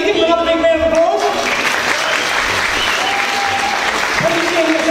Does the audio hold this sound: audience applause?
yes